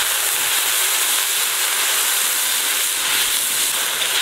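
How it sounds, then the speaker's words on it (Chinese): Beer splashed into a hot pot of abalone sets off a dense, continuous sizzle, loud and close, holding a steady frying hiss for several seconds with no talking over it. "倒一点啤酒"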